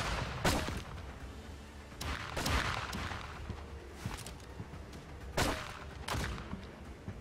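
Ship cannons in the naval combat game Blackwake fire in several separate heavy booms, each with a rumbling tail, heard at moderate distance against steady background noise.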